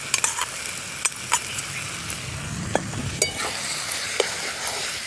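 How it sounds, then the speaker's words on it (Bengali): Cumin paste going into a pan of frying fish head and spinach curry, a steady sizzle with occasional light stirring clinks and scrapes, close and moderately loud, no voices. "এখন দিয়ে দিচ্ছি জিরা বাটা"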